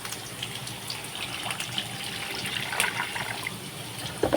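Water pours into a pot of boiled lentils for dal, a steady gushing splash running evenly throughout at moderate loudness, with no talking.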